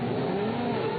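Formula 1 cars at Monaco's Rascasse corner during the 2016 Monaco Grand Prix make a continuous, loud engine drone that holds steady throughout.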